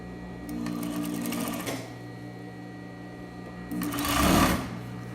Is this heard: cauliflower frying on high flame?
no